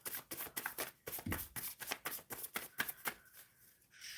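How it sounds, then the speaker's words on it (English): Tarot cards being shuffled by hand in a rapid run of crisp riffling bursts, close and fairly quiet, with no talk. "Shuffling for Izzy."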